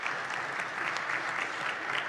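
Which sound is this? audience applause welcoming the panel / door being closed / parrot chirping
audience applause welcoming the panel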